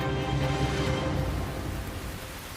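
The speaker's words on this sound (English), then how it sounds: "The annual rains arrive in November and can last for up to 5 months." Annual seasonal rains fall in the Waterberg in Africa, heard as a steady, soft hiss of rainfall with nothing else over it.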